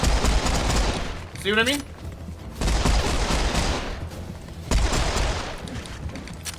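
Pistols firing in the shooter game Serious Sam 4, heard as three bursts of rapid, crackling shots separated by short gaps, with someone briefly talking between them.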